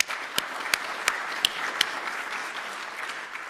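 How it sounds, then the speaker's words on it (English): An audience at an aviation conference applauds a speaker, with a handful of sharp, evenly spaced claps standing out above a softer wash of clapping that carries on steadily. "Please let's give him another round of applause."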